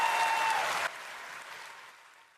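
An audience at a political debate applauds after European left candidate Walter Beyer questions von der Leyen about Israel. Dense, steady clapping is loud at first, drops abruptly, then thins and fades away.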